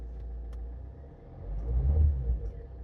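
A low, steady diesel engine rumble from an Alfa Romeo MiTo idles close by, swelling briefly louder midway before settling, with a faint click near the start.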